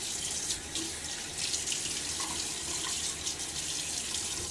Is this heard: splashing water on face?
yes